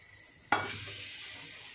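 Chopped tomatoes hit a hot pan for moong nimona and burst into a loud sizzle, then settle into a steady frying hiss with a faint scrape of stirring.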